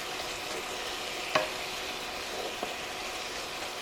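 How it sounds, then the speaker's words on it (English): Steak and onions frying in a pan, a faint steady sizzle broken by two brief utensil clicks as the onions are stirred in, quiet and without voices. "start stirring the onions into it"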